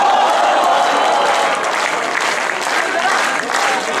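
An audience claps loudly and steadily throughout a college comedy roast show, a dense, sustained wash of applause with a slight dip near the end.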